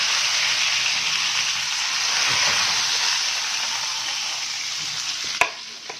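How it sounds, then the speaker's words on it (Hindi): A piece of fish fries on a grill pan in a loud, continuous close hiss and sizzle that holds steady throughout, with a single sharp clack near the end. "अब इसके अंदर जो दूसरा हमारे पीस था मछली का वो डालेंगे और उसको फ्राई कर लेंगे"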